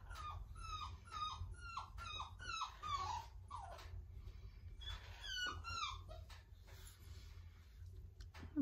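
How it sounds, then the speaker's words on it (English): A puppy whimpers and squeaks in a run of short, high, falling cries, close and fairly loud, with brief pauses between bursts and no talking. "I'm probably going to have to show you my puppy."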